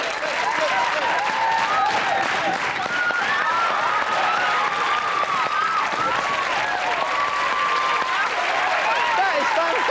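Sustained audience applause fills the whole stretch at steady loudness, dense clapping from a large crowd in a comedy show setting, with some cheering mixed in.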